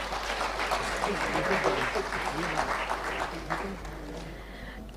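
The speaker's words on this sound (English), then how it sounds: "let's have a round of applause for them" Sustained audience applause fills a conference plenary hall, a dense steady wash of many hands clapping that holds for several seconds and eases slightly toward the end.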